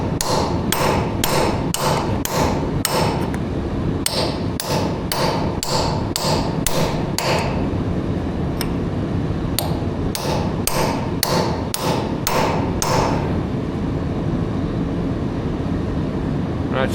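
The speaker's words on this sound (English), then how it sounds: "Bigger hammer, different punch." A heavy hammer strikes a punch to shock loose a part near an oil cooler and rear axle, making sharp metallic blows in quick bursts of several hits with short pauses, close and loud over a steady background hum of heaters.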